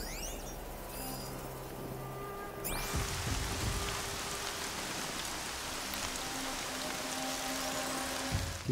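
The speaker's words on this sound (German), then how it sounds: "Noch mehr Regen." Rain in the video game Horizon Zero Dawn, a soft hiss of falling drops that swells after a few seconds into a steady, even downpour, with faint tonal game sounds beneath and no voices.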